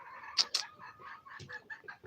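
Local free-range chickens cluck softly and irregularly, with a couple of sharper squawks among the short murmured clucks, faint and at a little distance.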